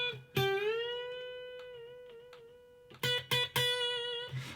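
An electric guitar note is picked and bent up two tones, the pitch rising smoothly and holding with sustain, followed by several sharp repeated picked notes near the end, played alone and close.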